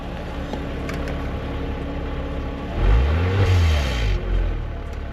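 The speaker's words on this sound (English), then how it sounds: "Put the mic by the exhaust." 2002 Porsche Boxster exhaust idling close to the pipe, a steady low rumble that swells into a brief rev partway through and then settles back.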